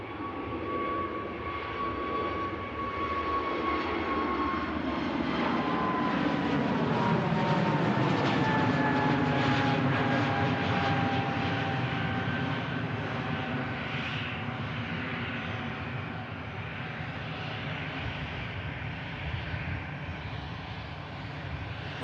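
An EasyJet Airbus A320neo bound for Belfast at Manchester Airport, a loud continuous jet engine roar with shifting whining tones that swells toward the middle and holds steady, no voices.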